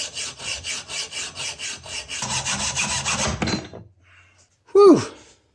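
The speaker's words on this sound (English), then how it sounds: "Now I'm just going to take my hacksaw and cut right along there" A hacksaw cuts through a metal knife blank in steady back-and-forth strokes, loud and close, for about three and a half seconds. The sawing then stops and a short sharp scrape follows.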